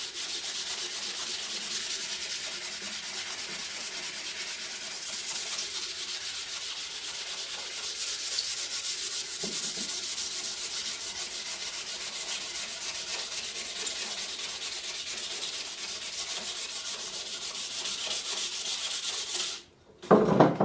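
Steady, continuous abrasive rubbing of sandpaper against a wooden axe handle clamped in a vice, smoothing out coarse grit and rasp marks; the hiss runs unbroken for about twenty seconds before a brief pause and a few handling bumps.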